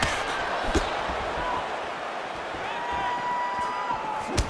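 Crowd in a UFC 5 video game bout between Israel Adesanya and Caio Borralho, a steady arena murmur with brief swells of oohs and cheers, running under continuous commentary.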